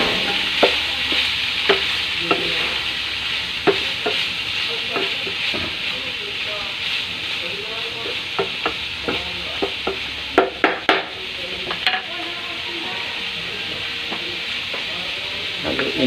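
Chicken breast and cauliflower stir-fried in a pan: a steady hiss and sizzle runs throughout, broken by repeated clacks and scrapes of the stirring utensil, with a brief cluster of sharper knocks near the end; no talk.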